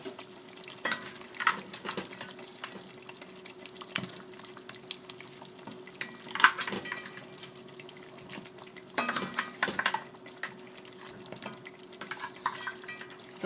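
Crab and meat simmering in okro stew on low heat, a soft bubbling sizzle broken by occasional spoon scrapes and clinks in the pot, fairly quiet and close.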